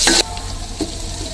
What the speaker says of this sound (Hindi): ये है लहसुन अदरक का पेस्ट जिसे घर घर सा कूट लिया है और इसे ऐड कर लेंगे हम फ्राई किए हुए प्याज में